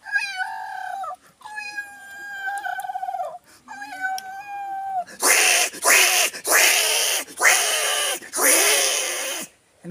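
A man mimics a cat in a comedy routine, drawing out several wavering meows and then a run of loud, harsh yowling caterwauls, voiced close and alone.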